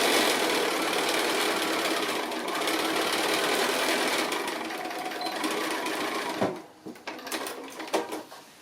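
A sewing machine runs a long continuous stitch along a fabric glasses case seam, close and steady, then stops and gives way to a few clicks and handling knocks.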